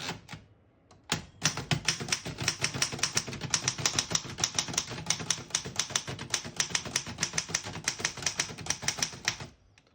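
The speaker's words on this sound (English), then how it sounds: "I'll type a sentence on the next line." Rapid keystrokes clatter on a 1922 Remington Portable antique typewriter in good condition, a dense close run of sharp mechanical strikes for several seconds after a brief pause, with no talking.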